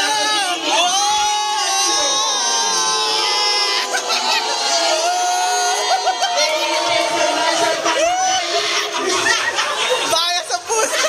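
A crowd at a Tekken 7 tournament cheers and chatters loudly, with shouts and laughter rising steadily under a commentator's excited talk.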